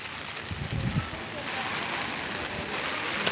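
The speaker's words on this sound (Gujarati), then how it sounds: "પણ ચાલુ છે ખરો વરસાદ, ધીમો ધીમો ધીમો" Light, steady rain falling outdoors during the monsoon near Tarapur, a soft continuous hiss with low rumbling noise beneath.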